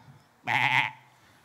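A person imitates a goat bleating with a single short, nasal cry lasting under half a second, close and alone against quiet background.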